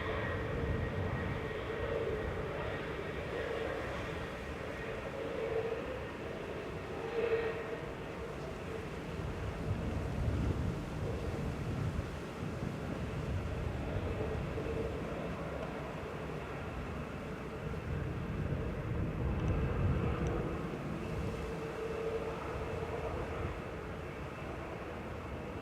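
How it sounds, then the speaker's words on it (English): A Eurowings Airbus A319 lands at Manchester Airport after a flight from Stuttgart, its engine roar faint and distant, a low steady drone with gentle swells and no talking. "This is Eurowings flight 2470 from Stuttgart, an A319 DAGWK operating this flight this evening."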